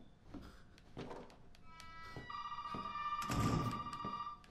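A telephone rings inside the Resident Evil VII horror game, its bright steady tone stretching over the second half and growing louder as footsteps and movement thud beneath it.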